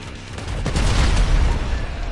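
Bomb blasts in the game GTA Online during an aerial battle, a dense, continuous rumble of booming explosions and gunfire-like crackle that swells louder after the first half second and stays heavy throughout.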